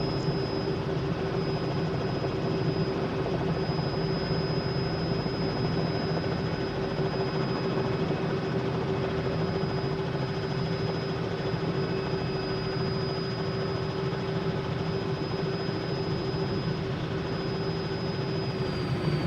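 A Robinson R66 helicopter in MSFS2020 drones at a steady rotor and turbine hum, with a sustained high warning tone from the low RPM alarm running almost continuously over it.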